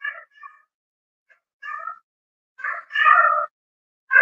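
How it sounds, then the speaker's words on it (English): A cat meows several times in short, separate calls, ending in a longer, louder cry, heard close and alone in a quiet indoor room during a relaxed evening chat. "Sorry about the cat."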